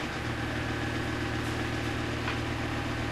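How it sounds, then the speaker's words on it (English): A vintage Starlet electric oscillating table fan by Electrostar Ltd runs with a steady, loud motor hum and a constant droning buzz, its blades adding a slight vibration throughout. "Bit of vibration there from the blades."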